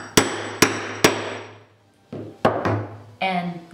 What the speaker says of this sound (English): Make sure that you hit it hard enough that it does go through your leather.